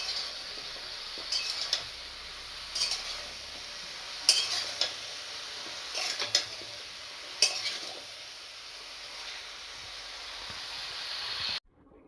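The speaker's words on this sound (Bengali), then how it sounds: "এটাকে এবার আমি কষে নেবো খানিক।" Bottle gourd sautés with salt and turmeric in a pan, a soft steady hiss of frying under repeated metallic scrapes and clinks of stirring, fairly faint, ending abruptly, with no speech.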